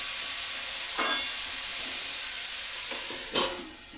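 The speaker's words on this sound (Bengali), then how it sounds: "নুন দিয়ে ভালো করে নাড়াচাড়া করে ঢাকা দিয়ে দেব সিদ্ধ হওয়ার জন্য" Food with salt being stirred in a pot for an egg and potato curry, a continuous hissing sizzle with a few soft scraping stirs near the start and end, close and unaccompanied by talk.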